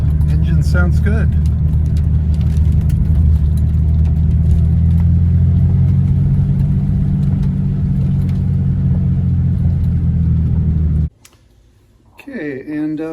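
A Porsche 930 engine runs at a steady, loud idle rumble for about eleven seconds, then cuts out abruptly, leaving a brief quiet before a few short noises return.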